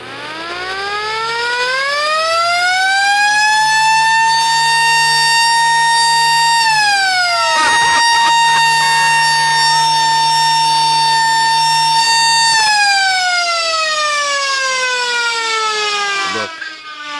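A loud industrial siren winds up into a rising harmonic wail, holds a steady howl, dips briefly, then holds again before winding down near the end.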